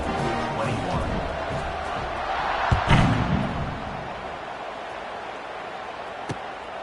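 A stadium crowd at an American football game buzzes with a broad, steady roar, swelling briefly with a thud and cheer near the middle before settling back to a constant hum.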